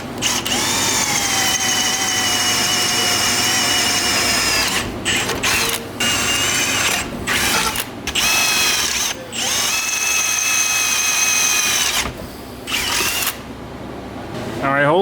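A power drill bores holes through metal with a drill bit during custom parts fabrication for an LS-swapped Miata, running in long loud sustained bursts with brief pauses and restarts between holes.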